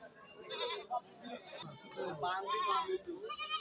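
Goats bleat repeatedly amid a busy livestock market, their wavering cries overlapping with steady crowd chatter and people talking nearby.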